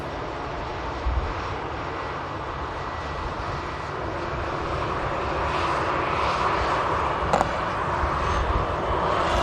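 A Turkish airliner at Manchester Airport, bound for Istanbul, building up a loud, broad engine roar that swells steadily for its takeoff run, with a brief clack partway through and no speech.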